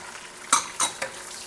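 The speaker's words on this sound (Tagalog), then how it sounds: "At antayin na naman natin maluto yung sibuyas." Onion goes into a pan with browned garlic, giving a faint background sizzle broken by three quick metallic clinks or scrapes of a utensil against the pan, close and brief.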